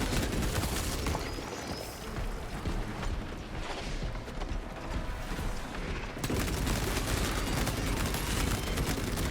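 A Heroic Heavy Bolter fires in the Space Marine 2 video game, dense rapid gunfire mixed with booms and mechanical clatter, loud and continuous with a brief shift near the end.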